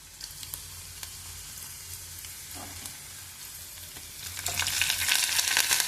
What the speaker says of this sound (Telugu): కొంచెం బ్రౌన్గా అయ్యేటట్టు ఫ్రై చేసుకోవాలి.